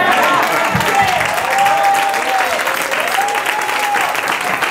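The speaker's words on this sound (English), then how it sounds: "Can we clap our hands?" A church congregation at a Youth Sunday service claps and cheers in sustained, full applause, with a voice calling out above the crowd.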